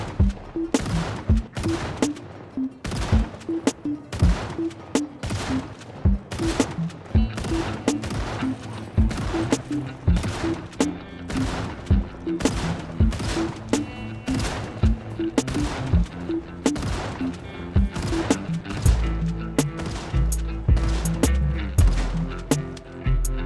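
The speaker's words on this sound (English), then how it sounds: "I let off a few shots to rile the masses." Gunfire in the video game Project Zomboid on foggy ground near a farmhouse, with rapid repeated loud shots in dense bursts throughout, close and sharp.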